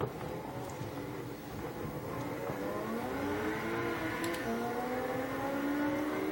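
Video-game racing car engine accelerating hard in a drag race against a Lamborghini Countach, a loud continuous roar with rising pitch through the gears.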